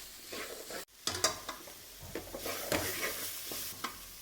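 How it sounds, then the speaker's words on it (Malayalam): Beef tumbles into sizzling masala in a pan and gets stirred, a quiet steady fry broken by soft scrapes and light knocks of the spoon. "ഞാനിതിലേക്ക് ബീഫ് ചേർത്ത് കൊടുക്കുകയാണ്. എല്ലാം കൂടെ ഒന്ന് ഇളക്കി യോജിപ്പിക്കണം."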